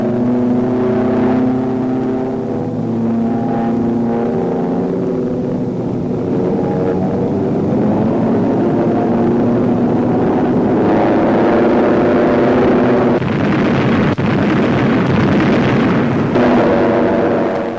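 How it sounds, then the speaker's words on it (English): Bombs dropped from a training aircraft detonating on a practice target, a loud sustained rumbling roar with heavy low booms and a droning engine hum, swelling and fading over many seconds. "Down go the bombs, sped to their target by the finest bomb sight in the world."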